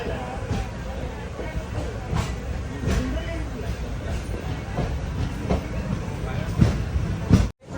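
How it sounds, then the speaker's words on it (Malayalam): Steady rumbling of a moving train arriving at Gadag Junction station, with rhythmic clicking of wheels over rail joints, continuous throughout, with faint voices underneath. "ഗദഗ് ജംഗ്ഷൻ റെയിൽവേ സ്റ്റേഷനിലേക്ക് ഇതാ നമ്മുടെ ട്രെയിൻ എത്തിക്കൊണ്ടിരിക്കുകയാണ്."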